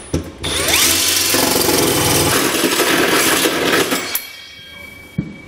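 A handheld power drill bores through a pickup truck bed while fitting an underbed gooseneck trailer hitch, a loud continuous grinding whine lasting several seconds before cutting off, followed by a couple of sharp knocks.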